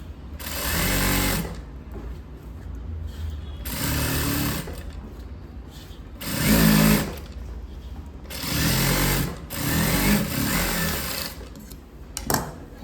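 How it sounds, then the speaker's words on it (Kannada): A sewing machine stitches a chudidar lining in five or six separate bursts of steady whirring, each a second or two long, with quiet gaps between them. "ಕಾನ್ಫಿಡೆಂಟಾಗಿ ನಾವು ಮೇಲ್ಗಡೆಯಿಂದ ಹೊಲಿಗೆ ಹಾಕ್ಬೋದು"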